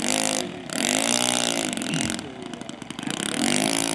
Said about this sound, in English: This is a single-cylinder, 4-stroke engine. Runs off of glow fuel